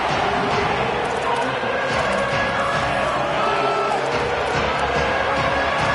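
Home crowd noise at an Ole Miss college football video game, swelling as the defense tries to get off the field on third down. A loud, steady stadium roar runs throughout with commentary talk over it.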